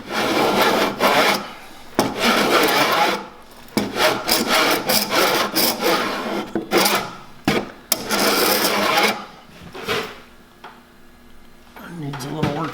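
A hand tool scrapes and rasps across a curved wooden surface, fairing the transition on a wooden bandsaw body, in repeated close rhythmic strokes separated by brief pauses.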